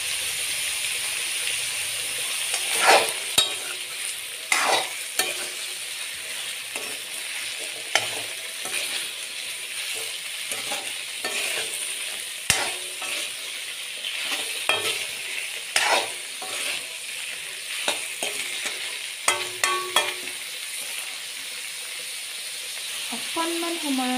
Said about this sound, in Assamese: অকণমান সময়ৰ কাৰণে মই ফুলকবিখিনি ভাজি দিম।